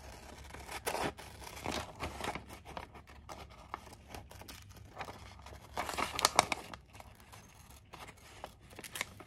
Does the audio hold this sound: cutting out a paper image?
yes